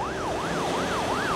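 An ambulance siren wails in a fast, repeating up-and-down sweep, loud and close, over a steady background rumble.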